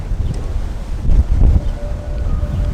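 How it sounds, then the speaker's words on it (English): Strong gusty wind outdoors in the gardens of Peterhof Palace buffets the microphone with low roaring rumbles that swell and ease, loud and close, with no talking. "Wow, it's very windy."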